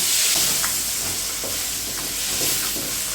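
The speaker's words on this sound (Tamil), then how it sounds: "நல்லா எண்ணெயில் தக்காளி நல்லா வதங்கணும் அப்பப்போ திருப்பிட்டு நல்லா வதக்கணும்" Tomatoes sauté in oil for a village-style tomato chutney, a continuous close sizzle broken by light taps and scrapes as the pan is stirred.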